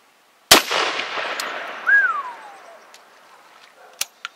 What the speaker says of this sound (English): He loaded 90 grains of Pyrodex black powder equivalent in here, and he's going to shoot it at about 12 steps at this gallon milk jug